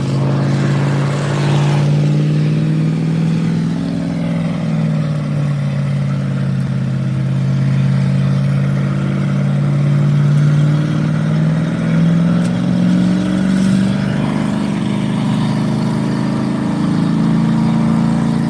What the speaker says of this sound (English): Oh, revving it up a little.